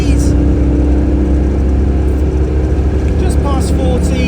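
A Citroën 2CV engine drones loudly and steadily as the car builds speed in third gear along a sweeping country road, with a constant low throb and road noise throughout.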